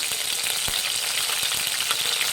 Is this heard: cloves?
yes